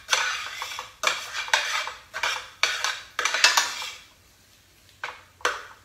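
Tomato paste is stirred in a cooking pan for crawfish étouffée, a run of close scraping and clanking strokes of a utensil against the pan in uneven bursts, pausing briefly before two more strokes.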